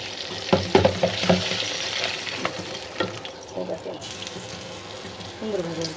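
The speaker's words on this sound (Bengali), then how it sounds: "কই মাছ ভেজে নিচ্ছি লাল লাল করে" Koi fish (climbing perch) frying in oil until reddish-brown, for a spiced potato curry; a steady loud sizzle and hiss with several sharp spatters and utensil knocks near the start, and a voice talking faintly underneath.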